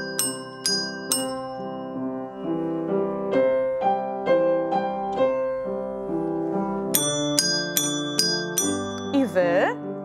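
Small bells ring out in clear, sustained tones, struck one after another in a slow sequence, with a voice singing matching pitches in between.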